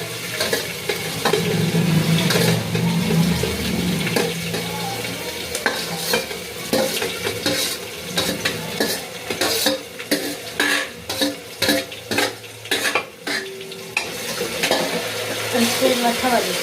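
Ginger garlic paste, chili and spices frying in hot oil for a green chickpea dish, a steady sizzle with repeated stirring scrapes and clinks toward the end, close and fairly loud with no talk.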